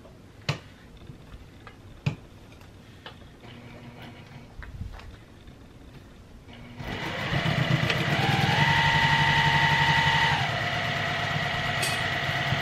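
A sewing machine stitches around a fabric bowl cozy. A few scattered ticks and clicks come first, then the motor starts up into a loud, steady, close whirring hum that carries on to the end.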